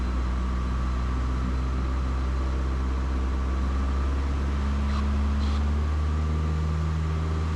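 Piper Tomahawk light airplane engine during a soft-field takeoff, a steady loud droning roar that stays constant throughout as throttle is added, with no talk.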